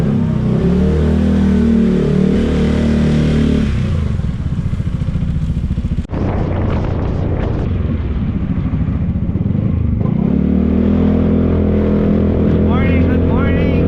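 Two motorcycles cruising along a road on a ride to a campsite in Norzagaray, Bulacan, a steady loud engine drone with shifts in pitch as the riders change speed, heard close up with wind rush.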